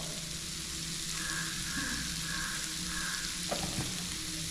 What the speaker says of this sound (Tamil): அழகாக கொஞ்சம் ஃப்ரை ஆகிடுது.